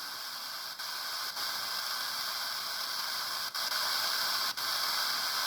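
A Retekess V117 AM/FM/SW radio hisses with loud, steady static while being tuned, broken by a few brief dropouts in the noise.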